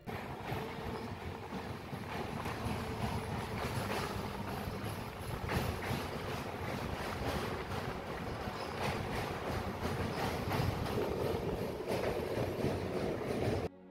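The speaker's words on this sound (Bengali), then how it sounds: "ওই দেখুন ওইখান থেকে একটা ট্রেন যাচ্ছে" A train passing at some distance near a large river, a steady low rumble with rhythmic clatter of wheels over rails, heard while travelling by boat, with no talk.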